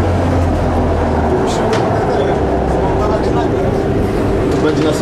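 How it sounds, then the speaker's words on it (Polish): Interior of a Warsaw tram in motion, a steady low rumble and rolling rail noise filling the car while voices talk over it throughout. "W warszawskim tramwaju."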